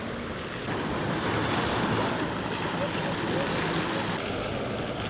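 Waves surging in over rocks along a rocky shoreline at a snorkeling spot near Sitka, a steady broadband wash and rumble that holds loud and close throughout, with a faint sense of wind.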